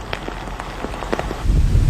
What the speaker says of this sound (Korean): 흐리고 비가 오는 궂은 날씨가 이어진다.